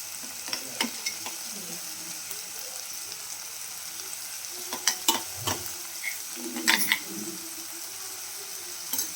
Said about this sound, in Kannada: ಇದು ನೀಟಾಗಿ ನಮಗೆ ಎಣ್ಣೆಯಲ್ಲೇ ಫ್ರೈ ಆಗಬೇಕು